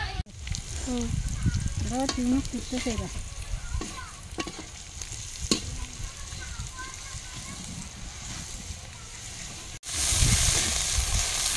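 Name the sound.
sautéing cabbage curry spice masala at a picnic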